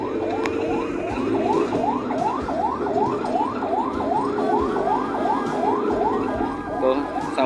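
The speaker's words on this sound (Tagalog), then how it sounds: "Ito yung ambulansya." An ambulance's rapidly rising and falling electronic siren wails repeatedly, loud and nearby, with engine noise and some muffled voices underneath.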